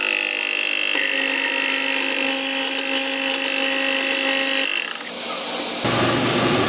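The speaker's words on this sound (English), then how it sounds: "I'm going to obviously drill a hole for that to go through" A power drill bores a hole in a part for a wobbler lamppost model engine, giving a steady high whine up close that stops after about five seconds, followed by a rougher burst of noise.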